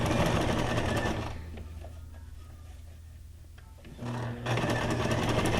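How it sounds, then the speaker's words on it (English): Sewing machine stitching through paper junk journal ephemera, a steady loud mechanical run that slows and softens in the middle before returning at full speed, with no talking. "these are really fast to sew"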